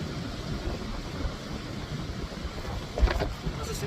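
Strong wind buffets the microphone with a steady rumbling roar at the sea, gusting briefly louder near the end, with white-water surf faintly underneath.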